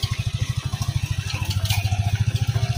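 A motorcycle engine idles nearby with a steady, rapid pulsing throb, the rhythmic low thumping continuing evenly throughout without speech.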